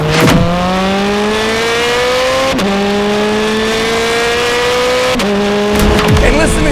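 Ferrari Speciale sports car engine revving hard and loud, its pitch climbing steadily through long pulls broken by two sharp gear changes, close and continuous.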